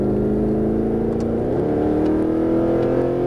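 A Mercedes-Benz SLS AMG on a track in Las Vegas, its engine droning loudly as it accelerates, pitch climbing steadily under throttle from inside the car.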